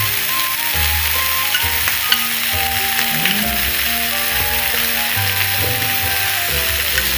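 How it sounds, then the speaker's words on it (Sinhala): Butter, mushrooms and bell pepper stir-frying over high heat for vegetable chop suey, a loud close sizzle joined by repeated scraping, clattering strokes of a utensil against the pan. "මේ විදිහට බටන් මස්රූම් ටිකයි බෙල් පෙපර් ටිකයි එකතු කරලා හොඳට කවලම් කරනවා"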